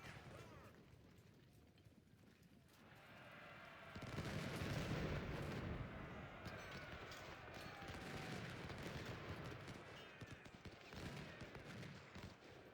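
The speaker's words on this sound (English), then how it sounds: "Let the cannons do their thing." Cannon and rifle fire in a Second Bull Run battle in Ultimate General: Civil War, a dense, continuous roar of overlapping booms and crackling volleys that swells louder after a few seconds, with voices faintly mixed in.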